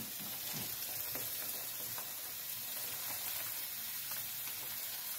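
Steady, fine crackling sizzle of salami frying in a pan, even and continuous at low level with no talking over it.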